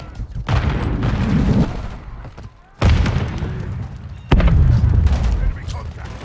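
Heavy gunfire and booming blasts in a Call of Duty Modern Warfare 3 team deathmatch on the Stash House map, MTZ-556 rifle in use, with loud dense bursts that dip briefly before two sharp renewed volleys.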